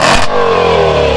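Range Rover Velar SV high-performance model with NHR-tuned 5.0-litre supercharged V8 (600 hp) and eight-speed gearbox, giving a loud, close rev that flares sharply then settles into a sustained, droning engine tone.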